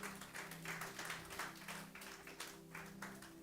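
A church congregation claps in a steady, moderately faint patter of hands, with a low sustained tone, likely music or an organ, running underneath throughout.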